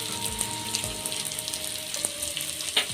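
Tender field beans (avarekalu) go into browned onions frying in a pan for an egg gravy. A steady close sizzle runs throughout, with a few light clatters and no talking.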